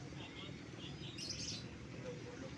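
Faint, scattered chirps and tweets of caged birds at a busy bird market in Malang, Indonesia, rise briefly above a low background murmur of distant voices.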